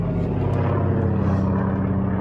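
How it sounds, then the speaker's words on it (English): Propeller airplane passing close overhead, a loud, steady engine roar and drone that fills the whole moment without letup, with no speech. "The airplane was so close."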